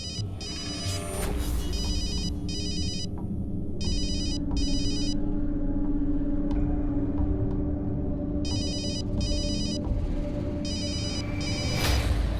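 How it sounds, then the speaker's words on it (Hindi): Telephone bell ringing in repeated double bursts, loud and close, with pauses between rings over a steady low rumble. "कौन है तू और क्यों बार बार ईशा को फोन करके परेशान करता है?"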